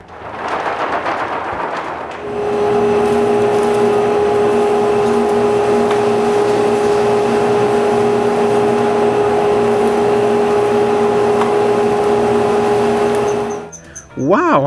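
After a few seconds of rustling, a shop vacuum fitted with a small cyclone dust separator starts up and runs with a loud, steady whine and whirring drone, then cuts off abruptly.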